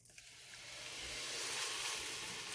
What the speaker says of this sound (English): So then we're just going to go ahead and pour the sauce.